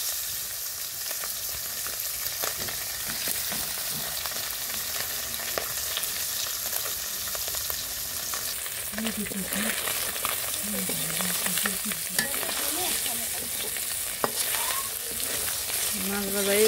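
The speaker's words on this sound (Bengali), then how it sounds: "তেল দিয়ে দিলাম, পড়ছে মাছ দিয়ে দিলাম" Fish frying in hot oil in a village kitchen, a steady close hiss of sizzling that continues throughout, with occasional crackles and scraping of a utensil.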